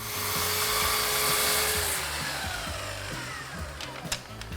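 A power tool cuts down wooden dowels for a wall-mounted drying rack, a high whirring whine that holds steady and then fades, ending in a few sharp knocks, with no voices.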